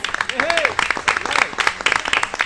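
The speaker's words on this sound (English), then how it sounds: "Can we give our principals a round of applause?" An audience at a school board of education meeting claps for the principals in a short, uneven burst, with a voice rising briefly over the clapping.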